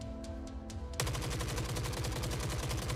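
Rapid automatic gunfire from the Forever Winter game kicks in after a second of quieter ambience, a steady, dense stream of shots at a fast even rhythm, loud and close with no talking.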